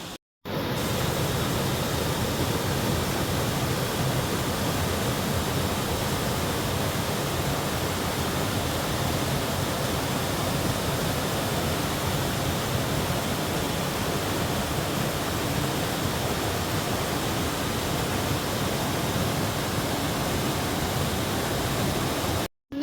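Waterfall on a forest stream in rural southern Laos, a steady broadband rush of falling water that stays loud and unbroken for over twenty seconds, with no talk over it.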